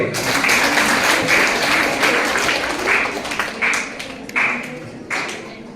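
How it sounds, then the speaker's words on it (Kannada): An audience claps steadily in a teachers' college hall, a dense wash of hand claps that slowly thins and fades, with scattered louder claps near the end and no talk over it. "ಚಪ್ಪಾಳೆ ಮಾಡ್ರಿ."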